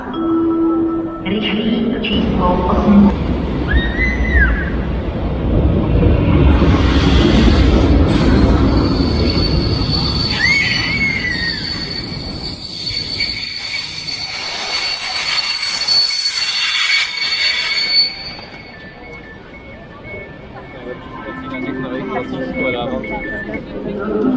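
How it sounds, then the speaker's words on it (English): A train departing from a platform at Kutná Hora, Czech Republic, rumbles and squeals along the rails at close range, its noise swelling then easing off, with people talking over it. "There is that train leaving at 12:03, 12:06 here."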